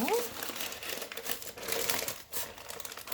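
Baking paper crinkling and rustling as a savoury tuna sponge cake roll is rolled up, a close, continuous crackle with short bursts while a person talks over it.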